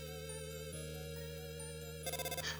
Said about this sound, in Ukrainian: до нас хтось дзвонить?